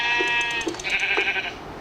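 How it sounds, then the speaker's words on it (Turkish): Sheep bleating in a video game, a few short wavering bleats in quick succession, close and clear, with a faint tonal background. "Aha, koyun."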